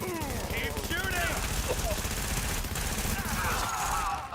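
Dense automatic gunfire and bursts in a firefight from The Division video game, continuous and loud, with game voice chatter and whistling tones mixed underneath.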